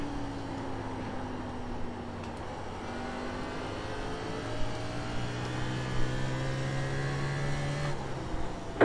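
NASCAR Cup car engine in iRacing at North Wilkesboro, a steady droning note that climbs gradually in pitch as the engine winds up, then shifts gear, close and continuous with no talk.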